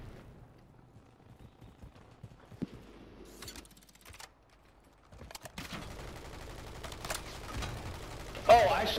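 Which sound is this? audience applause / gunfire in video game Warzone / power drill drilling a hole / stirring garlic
gunfire in video game Warzone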